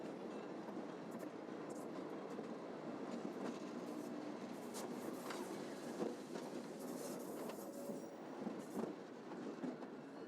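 A passenger train hauled by 1950s Montreal Locomotive Works diesel locomotives rumbles steadily past at a distance with soft rolling wheel noise and faint clatter, a continuous moderate drone with no voices.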